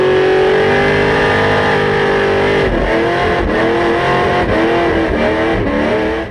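A car engine screams at about 8,000 rpm in top gear, held at full throttle with a raspy, sustained wail and slight fluctuations, loud and close.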